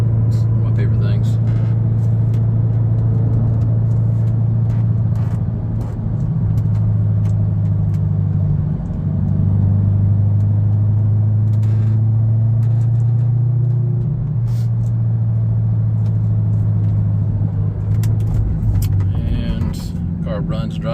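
An Audi R8 with an automatic gearbox runs and drives in first gear, its engine a steady close low drone with slight shifts in pitch, while a person talks inside the cabin over it.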